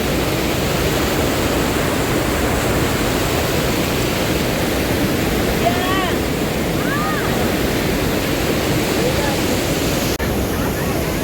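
Water pours out of the Vani Vilasa dam reservoir in Hiriyur, Chitradurga, Karnataka, once the dam has filled to capacity, making a steady, loud, close rush of broadband noise that never lets up, with a few faint bird chirps above it.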